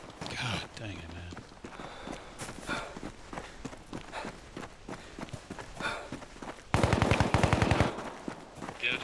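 Gunfire rattles through a tactical video game, scattered shots followed by a loud, sustained burst of rapid automatic fire near the end, with several players talking over it throughout.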